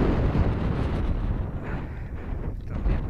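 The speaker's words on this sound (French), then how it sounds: "Le vent là." Heavy storm wind in Lorraine, along a disused railway line, roaring across the microphone, a dense, steady low rumble with gusty surges, close and loud, no speech.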